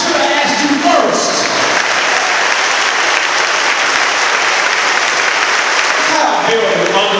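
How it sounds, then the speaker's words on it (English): A dense, sustained round of audience applause fills a church during a town meeting rally, loud and steady throughout with a few voices cheering and calling out underneath. "I want to give you a round of applause"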